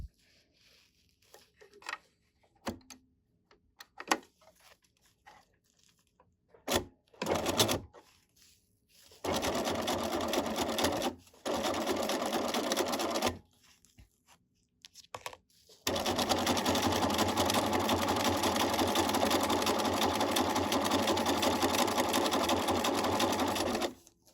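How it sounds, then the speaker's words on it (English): A sewing machine with an edge stitch foot and the needle moved to the side runs along a fabric edge. Short clicks come first, then two bursts of rapid stitching, then a longer continuous run, all close and steady. "I have an edge stitch foot attached to my sewing machine and the needle over to the side so that it's easier to get just along the edge here"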